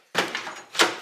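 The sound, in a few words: 1963 Dodge D100 truck door latch closing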